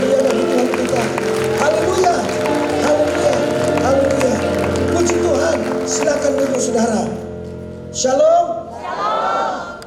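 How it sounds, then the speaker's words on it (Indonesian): A congregation claps during a senior community worship service at a church, the applause blending with music and crowd noise before tapering into a few louder scattered bursts. "Dan kita beri tepuk tangan yang meriah bagi Tuhan kita."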